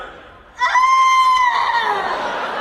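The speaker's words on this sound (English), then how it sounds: "Those are screams of excitement." At an anime convention, a high, sustained scream of excitement breaks out suddenly and loud, holding for about two seconds before trailing into a rougher, noisier cry.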